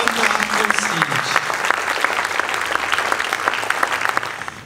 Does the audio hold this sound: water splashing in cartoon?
no